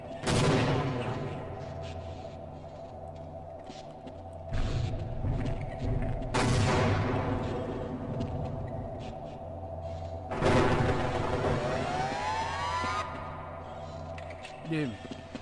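Grenade blasts and gunfire in a video game: three sudden loud broadband bursts, each trailing into a rumbling decay, over a steady backdrop of mid-distance gunfire and game noise.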